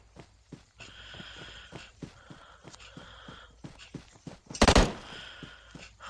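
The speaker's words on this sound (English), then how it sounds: "Oh, I'm getting shot here." Gunfire in the PUBG battle royale game, a rapid burst of close, loud shots near the end after a series of sharp, evenly spaced footstep-like thumps and a faint background hum.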